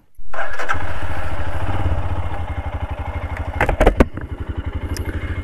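A motorcycle engine starts abruptly and runs loud and close, then settles into a rhythmic, pulsing idle with some clattering bumps partway through, ahead of a ride over a hanging bridge.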